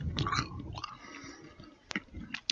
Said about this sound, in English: Here's the sound of the crunch from the baked zucchini chips.